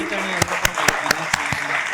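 An audience claps for guests at a children's drama workshop event, with a short run of evenly spaced, fairly close claps heard over a faint background murmur.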